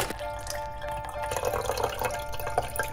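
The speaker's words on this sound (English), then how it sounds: "To filter it out even more, I'm gonna use a coffee filter." Banana peel water strained through a paper coffee filter gives a steady close trickle with small drips and splashes running throughout, alone with no talking.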